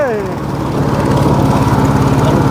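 A well-drilling machine engine drones steadily and close, a rough continuous engine roar with a brief whining pitch sweep at the start.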